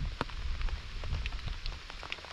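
Rain falls steadily on a surface during a rainy canoe trip, a close, continuous patter with scattered sharper drop hits, no voices.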